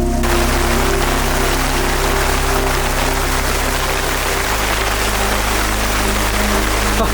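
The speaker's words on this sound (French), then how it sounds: "Grosse pluie sur notre premier bivouac du soir" Heavy rain pours down on a first evening jungle camp in the Amazon, a loud dense constant hiss with low steady tones underneath and no talking.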